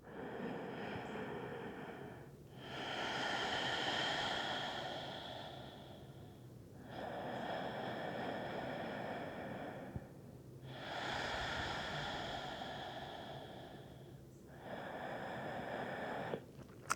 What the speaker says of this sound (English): Take 3 deep breaths here.